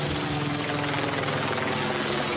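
A helicopter heard from overhead above a nationwide anti-ICE street protest, its rotor and engine roar steady, loud and continuous throughout without a break.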